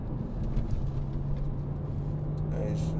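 A 2011 BMW Z4 sDrive23i drives through traffic and kicks down on a steady, loud engine drone. The engine holds a strong low hum with a sustained tone throughout, under road and cabin noise.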